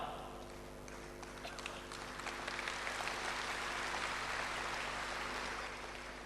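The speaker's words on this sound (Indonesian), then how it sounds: "Mungkin sebagian mengerti, makanya tepuk tangan." Church congregation applauding during an Easter sermon, a broad, steady wash of clapping that swells after the first second and carries on evenly throughout.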